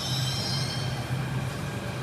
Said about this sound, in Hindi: तो दोस्तों ट्रेन आ गई है और अभी मैं इसमें बैठने वाला हूँ